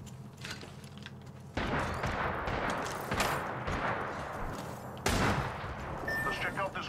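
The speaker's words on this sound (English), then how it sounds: "I am taking fire." Video game gunfire in a PS4 shooter, with loud bursts of rapid shots and heavy volleys coming in waves over several seconds, loud and close, with players talking over the shooting.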